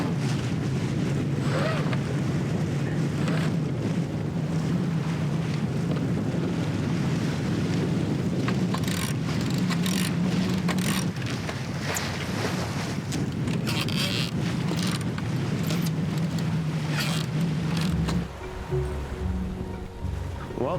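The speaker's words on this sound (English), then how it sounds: "the sails are set and we are officially underway on our 450-mile passage" A sailboat under sail on the open sea, on a long passage northward from Costa Rica, with steady loud wind roar buffeting the microphone and rushing water and waves against the hull throughout, easing near the end.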